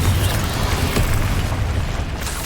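Confringo fire-blast spell explosions in Hogwarts Legacy, a loud booming burst with rumbling low end that decays into a dense roar, a second sharper hit landing about a second in.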